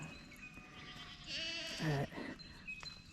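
Goats bleat outdoors on a mountain, a wavering cry rising out of faint background ambience at a moderate distance, with quieter calls around it.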